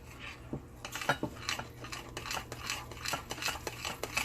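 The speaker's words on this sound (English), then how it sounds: "Let me go ahead and mix it around a little bit" A metal spoon stirs milk in a pot or bowl for a ribs and cabbage dinner, giving repeated clinking scrapes in an uneven rhythm, close and fairly quiet with no talking.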